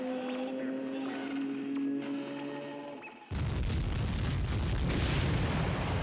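A bomb goes off in The Wind Waker: a quiet stretch of tonal game sounds is cut by a sudden loud, broad roaring blast that keeps rumbling for several seconds.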